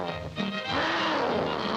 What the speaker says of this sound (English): he heard the most ferocious-sounding roars